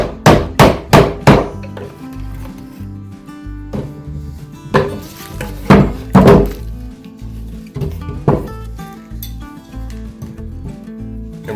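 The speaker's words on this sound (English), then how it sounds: "Cleaning up the sides of the mortise here." A chisel cleans up the sides of a mortise cut in wood, giving a series of sharp, close knocks and thunks in uneven bursts, with some clustered rapid strikes and short pauses between them and no talking.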